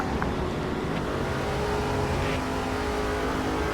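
Race car engines in the video game NASCAR 2005, driving an '05 Ford: a steady, dense engine roar that holds at an even level throughout, with no talk over it.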